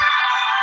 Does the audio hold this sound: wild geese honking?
no